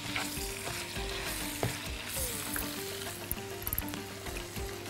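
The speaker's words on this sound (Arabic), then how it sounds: "نقلب كده كويس قوي" Mushrooms, nutmeg and ghee are stirred in a frying pan for a pasta dish, giving a steady close sizzle throughout with scattered clicks and scrapes from the spoon against the pan.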